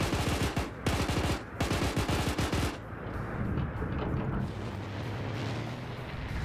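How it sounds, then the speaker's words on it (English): Aircraft cannon strafing run in a large-scale WW2 multiplayer game, a loud rapid burst of heavy automatic fire followed by a rumbling roar of impacts and explosions. "we see a gun run coming in for Oddball."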